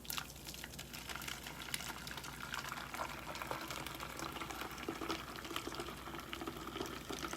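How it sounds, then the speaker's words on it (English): Watermelon detox tea pours through a strainer with a faint, continuous trickle and splash of liquid. "now I take the strainer and strain it right off"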